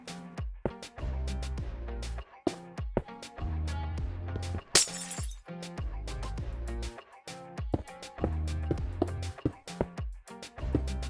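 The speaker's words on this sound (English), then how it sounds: "I will make a 2-block high glass wall" Glass blocks are placed one after another to build a two-block-high wall in Minecraft, with clinking and shattering game effects over steady rhythmic background music.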